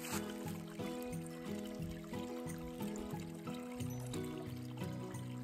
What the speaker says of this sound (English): Just fill your container right up.